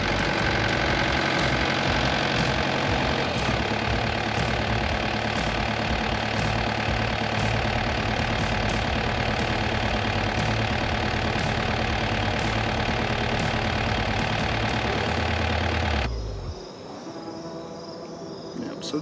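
Engine idling steadily after an oil change with a fresh filter, a loud continuous low running drone with high insect-like chatter throughout, cutting out and dropping quieter near the end.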